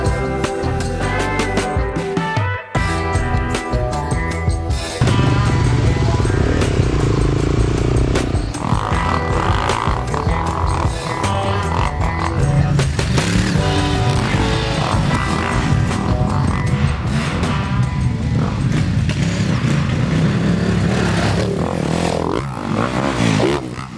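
A Ducati Desert X motorcycle on an enduro ride through woods and hill climbs, its engine snarling and revving loudly and continuously over clattering and scraping off-road noise for the full length, without talk.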